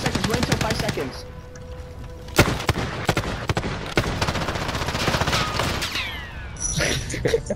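A chopper gunner in a first-person shooter rains down rapid bursts of gunfire, dense rattling volleys punctuated by louder impacts, with a voice talking over the din.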